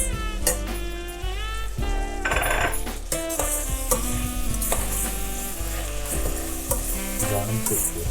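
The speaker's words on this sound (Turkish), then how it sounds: "Gördüğünüz üzere soğanlarımız pişiyor." Onions and meat sizzling loudly in a pot for Turkmen pilaf, a dense close hiss broken by metallic scraping and clinks of a utensil stirring, with no talking.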